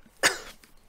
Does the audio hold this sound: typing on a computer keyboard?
no